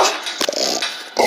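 A dog in a kennel growls low and rough in a steady rumble for just over a second, broken by short snorts and shuffling. It sounds close and fairly loud, with no talking.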